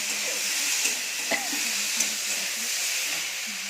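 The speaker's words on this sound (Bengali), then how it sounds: "ভাজা চলছে উচ্ছেটা" Bitter gourd frying in oil in a pan, a steady, close hiss with a few faint clinks and light background sounds.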